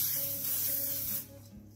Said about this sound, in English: that's our baking paper that we're going to spray.